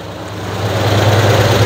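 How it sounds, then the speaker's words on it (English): A 1977 Chevy Camaro engine idles close by after a decade of dormancy, a loud steady low rumble with an even throb and no speech. "Now that's the motor running, not the hybrid portion"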